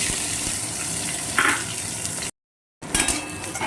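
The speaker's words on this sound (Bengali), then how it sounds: "এবার আমি তেলের মধ্যে এই যে কাঁচা লঙ্কা চেরা আর পেঁয়াজ কুচি দিয়ে দিচ্ছি" Slit green chillies and chopped onion sizzle steadily in hot oil in a home kitchen, a constant close frying hiss broken by a short pause and a brief louder crackle as the pieces settle.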